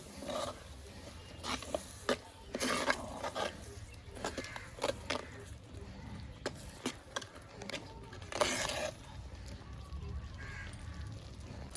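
Ground masala being stirred and sautéed in a pan makes a quiet, uneven sizzle broken by repeated scraping strokes and knocks of a spoon, close but soft.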